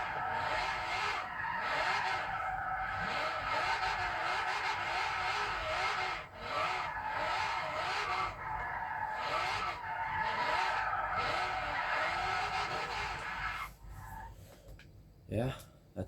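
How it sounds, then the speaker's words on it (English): Tires squeal and skid steadily as a car drifts in the racing video game Forza Horizon 3, a long wavering screech with engine noise, a voice talking over it and a sharper squeal near the end. "This car actually slides really well."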